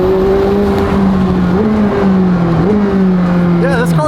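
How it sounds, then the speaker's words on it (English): A Chevrolet LT-model car with its stock factory titanium exhaust produces a steady, loud engine drone with small rises and dips in pitch, a continuous close-up rumble held through the whole stretch. "Sounds pretty decent with the stock exhaust because the LT model cars come from the factory with a titanium exhaust."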